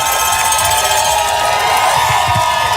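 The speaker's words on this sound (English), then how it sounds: "This crowd is incredible. I feel like, Arrowhead Stadium and the Seahawks, they got this is the loudest crowd I have ever." A loud crowd at Super Bowl City cheers and shouts in a dense, continuous roar, whoops and yells blending into a constant wall of noise.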